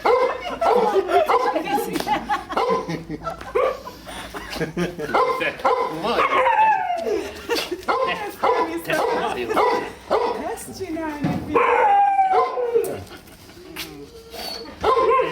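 An Akita dog barks, yips and whimpers excitedly in repeated bursts, close by, while several people talk and laugh over it.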